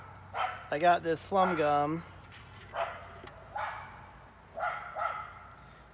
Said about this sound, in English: them dogs are barking at a squirrel